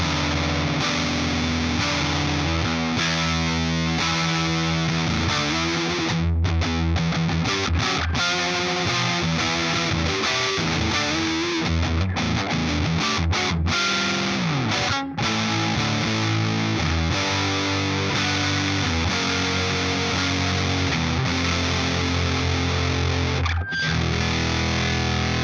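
Heavily distorted electric guitar played through a Supercool 800 distortion pedal set to its silicon clipping diode mode, with a loud, sustained fuzzy drive and chords ringing continuously with a few brief gaps.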